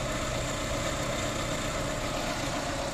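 A used Honda Civic with automatic transmission, imported from Canada, runs at a steady, even idle, its engine hum close and continuous with no talk over it.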